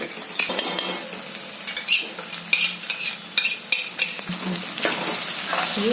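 A spoon stirs and scrapes in a pan as a yogurt mixture sizzles with okra, with irregular clinks of utensil against metal, close and moderately loud, no talking.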